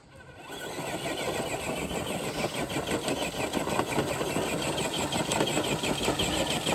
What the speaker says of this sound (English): Okay, first up, we got Hunter pulling one brick